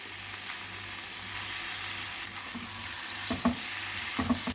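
Potatoes and beans frying together in a pan with mustard paste for an Odia Pakhala thali, a soft steady sizzle with a few spoon stirs and scrapes toward the end, no talking.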